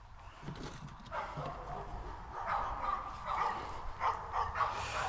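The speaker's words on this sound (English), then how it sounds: "It seems to be wanting to bark today." A dog barks and yips repeatedly in a series of close, insistent barks with some whimpering tones, growing louder toward the end, during a kayak lights installation.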